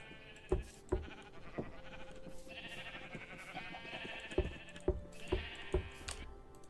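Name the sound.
sheep bleating in the video game Everwor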